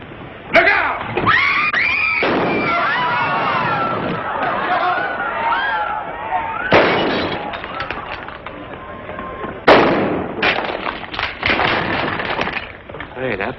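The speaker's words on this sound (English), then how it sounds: "Hey, that fella can shoot." Gunshots and gunfire in a western film starring two actors, a few sharp cracks mixed with shouting, galloping and crowd commotion, voices calling out throughout.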